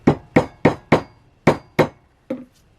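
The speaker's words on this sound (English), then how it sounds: "now I'm just lining everything up and punching in the top holes" A hole punch is driven through a leather Jedi belt with loud, sharp, close knocks: six strikes in quick rhythm, then a pause and one softer final blow.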